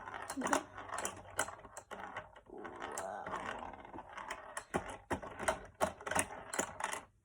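A ball rattles and clacks through a Lego pinball machine during play, with busy irregular plastic clicks and knocks, flipper snaps and brief rolling rumbles, close and moderately loud, with no voices.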